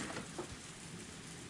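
Sudden rain falling steadily as a soft, broadband hiss, quiet and continuous with no voices.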